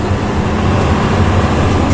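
Loud, steady low rumble of a Luragung intercity bus cruising at night on the toll road from Cirebon to Depok, its growling modified exhaust droning continuously with dense engine and road noise.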